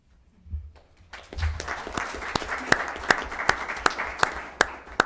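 Audience at a board of education meeting breaks into applause, starting with scattered claps that build into steady clapping with a few sharp, distinct hand claps standing out, fairly close and without speech.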